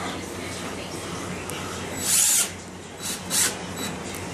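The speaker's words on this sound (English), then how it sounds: "just screwing them one by one" Screws are driven one by one into a styrofoam incubator, giving a few short, close whirring power-driver bursts over a quiet, steady background.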